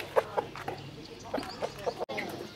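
Bangkok, Burmese and Saigon fighting chickens give a series of short, close clucks at irregular intervals, with a brief sharp click partway through.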